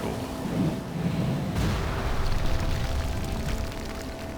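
Explosion sounds in a World of Warcraft cutscene at Beldun Fortress: a rumbling, rolling burst with crackling debris that continues as a low, dense roar, with no voices.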